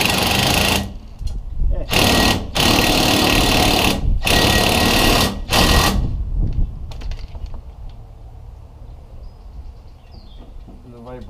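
Electric impact tool tightening a bolt on a Bull Dog fifth-wheel trailer jack, several loud rattling hammering bursts with short gaps, then quieter background noise as a voice briefly speaks.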